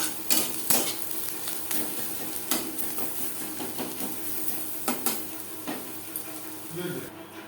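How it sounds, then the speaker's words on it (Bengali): A utensil scrapes and clatters steadily against a pan as onions fried in oil are stirred with turmeric for a leaf bhorta, with a faint sizzle beneath and a few sharper knocks. "পেঁয়াজ ভাজা হয়ে এসছে, দিয়ে দেবো সামান্য পরিমাণে হলুদের গুঁড়ো।"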